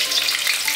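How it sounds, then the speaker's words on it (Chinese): Preserved radish is stir-fried in a little hot oil in a heated wok, giving a brief, loud, bright sizzle close by with no speech. "锅烧热下一点油，菜脯先炒一下"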